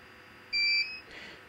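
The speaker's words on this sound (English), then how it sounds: "sorry about the beeping, sort of UPSs" A single short electronic beep from a UPS battery backup during a power cut, a clear high-pitched tone lasting about a third of a second, sounds over quiet background hum.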